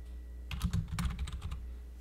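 A brief burst of keystrokes as a name is typed on a computer keyboard in Cricut Design Space, about a second of rapid, soft clicks, close and quiet with no speech.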